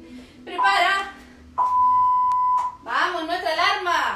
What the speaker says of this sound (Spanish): nuestra alarma